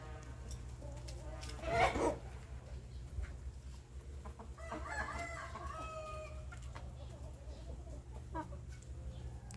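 Burmese chickens in a farm pen, with a rooster crowing loudly near the start and then scattered clucking and calls nearby against a steady low background hum.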